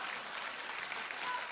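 A theatre audience at a televised crosstalk comedy contest claps in a brief, even wash. The applause sounds somewhat distant and subdued, with no voices over it.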